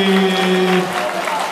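Audience applause at a cosplay contest stage in Kaohsiung, a broad patter of clapping from a crowd, with a voice and tonal sound standing out at the start before the clapping carries on alone.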